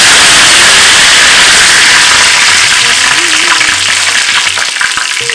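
Fenugreek seeds and curry leaves sizzle and crackle steadily in hot oil, a loud, continuous frying hiss that carries through the whole stretch with faint stirring underneath.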